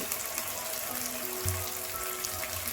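Chicken frying in a pan with ginger-garlic paste and turmeric, a steady, close sizzle with faint crackle and a few soft clinks, no voices.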